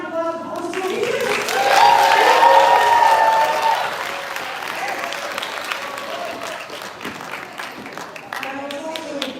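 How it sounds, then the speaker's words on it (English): Audience applause at a live jazz education event fills the whole stretch, a dense sustained round of clapping that swells early and then holds steady, with a speaking voice over the start. "Can I round of applause for all school leaders?"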